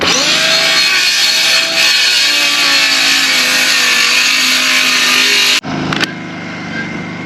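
A circular saw cuts an angle into a wooden board, its loud, steady whine running without a break for over five seconds before stopping abruptly, leaving a brief clatter and quieter room noise.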